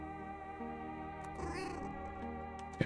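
A cat meows in the cozy farming game Fields of Mistria, a short rising call over steady, soft background music with no talking.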